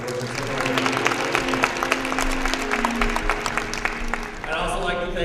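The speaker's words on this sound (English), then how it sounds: "So let's give them a big round of applause." Crowd applause at a Martin Luther King Day celebration in Hammond, continuous moderate clapping with a faint voice or murmur underneath throughout.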